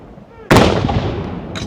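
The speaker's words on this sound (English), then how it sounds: "while they're firing the salute" A gun salute booms out near the Blücher site in Norway: a single loud, close blast that rumbles and decays over a second, following faint chatter.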